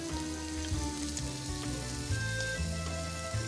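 Bacon sizzling in a pan with a teaspoon of olive oil, a close, continuous crackling fry with steady popping texture and a faint low hum underneath, no voices.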